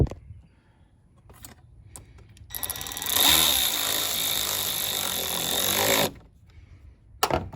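A power tool tightens bolts on the knock sensor area of a 2014 Toyota Tundra engine with 122k miles, a few short clicks, then a sustained loud whirring burst of about three seconds, followed by brief taps.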